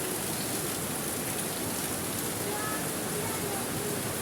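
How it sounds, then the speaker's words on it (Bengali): Steady rain pours down in a hot-weather downpour, a dense, even hiss of falling drops that stays constant and fairly loud throughout, with no break or gap. "বৃষ্টি কিভাবে হচ্ছে।"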